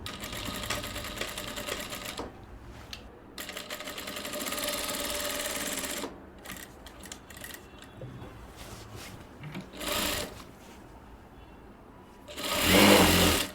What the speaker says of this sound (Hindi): यहाँ से स्टार्ट करते हैं हम सिलाई लगाने के लिए।